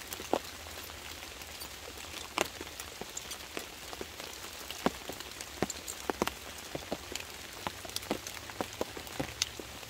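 Heavy rain falls on a campsite during a solo overnight ATV camping trip, a constant dense hiss with scattered sharper drops tapping nearby surfaces, no voices.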